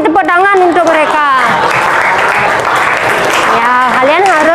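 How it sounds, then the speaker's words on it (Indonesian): Classroom students applaud two classmates, Nadine and Titania: a loud, steady wash of clapping from the group, with voices talking over it at the start and end. "Kasih tepuk tangan untuk mereka"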